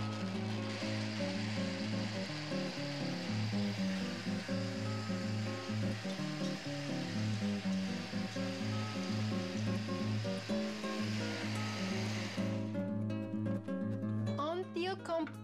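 A blender purees tomatoes, a steady loud whirring motor with churning texture running continuously, then stopping abruptly near the end.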